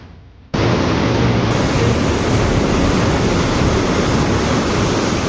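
Floodwater of the Garra river in Hardoi, Uttar Pradesh, rushes after washing away a road: a loud, dense, unbroken roar that begins abruptly and holds steady, with no voices.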